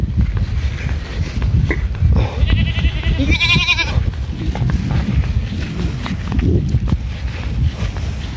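A goat near a riverbank lets out a couple of short wavering bleats in the middle, over a steady rumbling outdoor background with faint movement noises.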